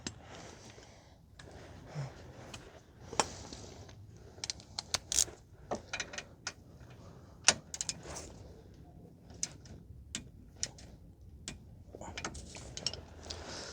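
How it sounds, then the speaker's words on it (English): A torque wrench tightens a 16 mm aftermarket pinch bolt on the lower ball joint of a 2011 Subaru Outback 2.5, producing irregular sharp metallic clicks and ratchet ticks over low workshop noise. "then we are going to torque the pinch bolt, which is a 16 mil for this aftermarket"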